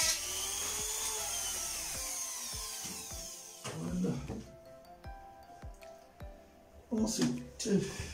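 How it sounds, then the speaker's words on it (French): A small drill whines as it bores into shower fittings in a bathroom, its pitch sliding as the bit loads up. Scattered clicks and knocks follow, and someone talks faintly in the background. "je vais tout percer"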